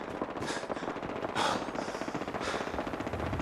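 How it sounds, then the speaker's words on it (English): Explosions and gunfire in the video game Fallout 4 make a dense, continuous rattle, with sharper bursts popping out near the middle and end, moderately loud and steady. "Alright, explosions. I made it go boom."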